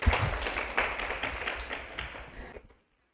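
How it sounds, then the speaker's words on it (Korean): An audience at a Seoul fashion conference gives dense, close applause that swells at the start, gradually thins and stops abruptly, leaving silence. "박수로 강연 들어보도록 할까요? 박수 부탁드립니다"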